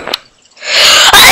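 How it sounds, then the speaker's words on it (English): A single short sneeze, loud and close, bursts out right at the start and then drops away, followed by a noisy stretch of game sounds. "I've sneezed on her."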